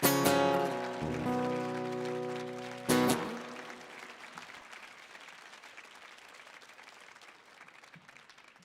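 Audience applause at a live Millennium Stage concert rises as a song's last notes ring out, then settles into a steady clapping that slowly thins and fades.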